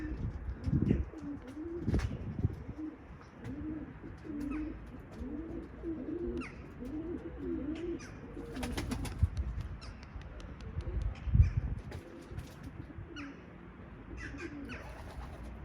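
Pigeons coo repeatedly in a rolling rhythm inside an office coop, with wing flaps and scattered chirps over a steady outdoor background.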